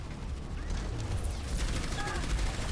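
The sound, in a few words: gunfire in the video game Overwatch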